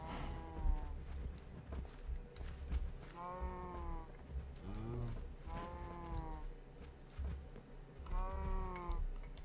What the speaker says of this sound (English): I'm going to be hearing cows all the time now.